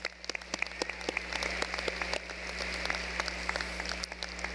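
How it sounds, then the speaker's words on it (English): Dense, steady applause from a high school graduation audience, a continuous patter of many hands over a low hum, without voices. "I think that's worth another round of applause."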